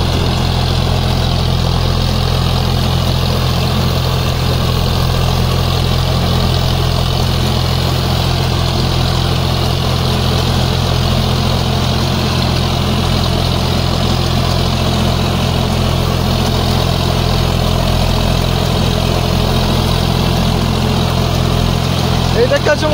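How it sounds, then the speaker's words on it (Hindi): A John Deere 5050D 4WD tractor in low second gear at 1700 RPM drives a 72-blade rotavator through a field, making a loud, steady, heavy diesel drone throughout with someone talking over it. "এখনো বন্ধুরা চলছে বন্ধুরা 1700 RPM গাড়ি চলছে, লোয়ে 2 নম্বরে গাড়ি চলছে।"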